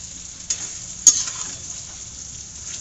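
Taro root (arbi) pieces fry in oil over a full gas flame, making a soft, even hiss with a couple of sharp utensil clicks near the start and no voices.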